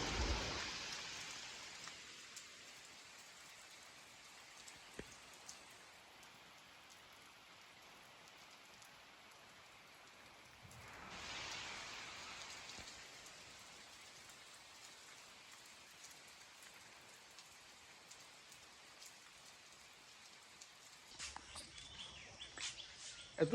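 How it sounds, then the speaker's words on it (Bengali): Steady rain patters outdoors at a moderate, even level for a long stretch, with brief swells in intensity and occasional faint bird chirps behind it. "কি বৃষ্টি দেখেন,"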